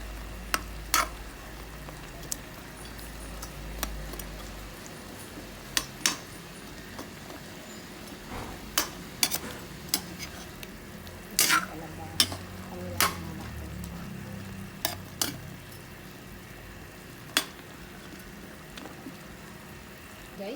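Chicken and squash fry in a pan for ginataang manok, with a constant low sizzle broken by scattered sharp clicks and scrapes of a utensil stirring close by.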